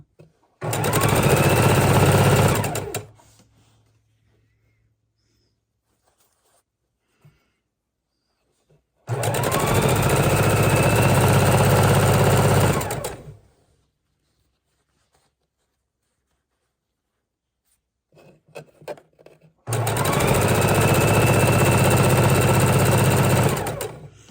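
Sewing machine stitching quilt fabric for pinwheel blocks, running in three separate bursts of steady close whirring, each a few seconds long, with quiet gaps in between.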